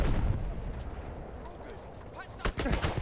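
Rapid gunfire and heavy blasts from the First World War shooter Battlefield 1, dense and loud throughout, with a sharp burst of shots near the end and a voice talking over the game.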